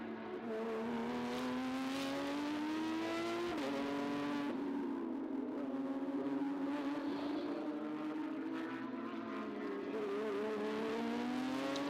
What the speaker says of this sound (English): Not a better first sector of the lap for James Wallace as he heads down the back straight to turn 10.